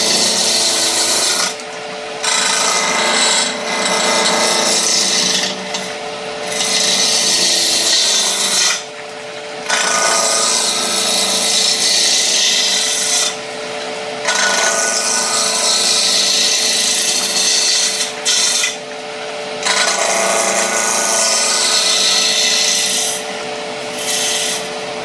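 A skew chisel cuts wood on a turning lathe in a run of scraping, rasping bursts. Each lasts a few seconds and is split by short pauses as the tool lifts off the spinning workpiece.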